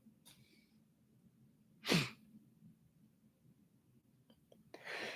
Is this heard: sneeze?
yes